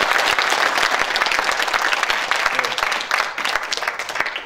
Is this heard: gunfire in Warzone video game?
no